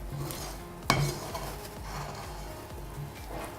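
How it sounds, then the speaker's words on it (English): Donut dough is stirred by hand with a spoon in a bowl, giving soft, faint scraping and knocking strokes with a sharper clink near the start, steady and close. "You just keep stirring till you make sure there's no flour left, that isn't moistened."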